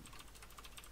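Rapid typing on a computer keyboard, a quick run of close, faint key clicks at an even pace with no talk.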